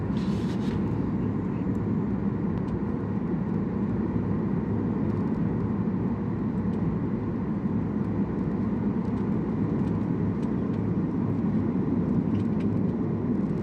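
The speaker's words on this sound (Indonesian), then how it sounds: "pesawat Singapore Airlines yang AA tumpangi kali ini sudah mendarat dengan baik" Steady, loud roar of a Singapore Airlines jet airliner's engines and airframe rumble as it lands, continuous throughout with no talking.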